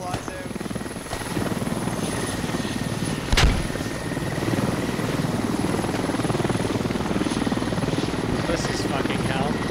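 A video game helicopter roars with steady rotor thump and whine as it loses its tail rotor, with a sharp crash-like burst near the start and a continuous loud engine drone afterward, and players talk over it.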